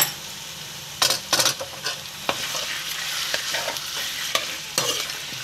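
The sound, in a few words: mutton frying with ginger garlic paste in oil, stirred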